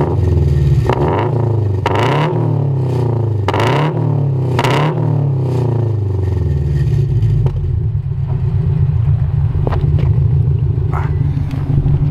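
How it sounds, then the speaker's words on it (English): A 2018 Subaru BRZ tS engine revs hard several times in loud bursts through its exhaust system, then settles into a deep, rumbling idle with crackling exhaust, all close up. "I'll rev it a little bit so you can hear how nice that exhaust system sounds"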